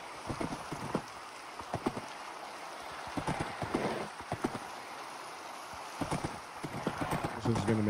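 Horse hooves clip-clopping in the video game Minecraft, irregular clusters of sharp hoofbeats over a steady rain-like hiss, with a person talking over them.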